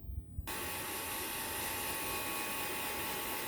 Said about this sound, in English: So I got my wife's trusty Testarossa hair dryer.